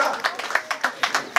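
An audience at a bilingual high school excellence awards ceremony claps for the school principal, giving scattered, uneven hand claps in a loose rhythm, close and fairly loud.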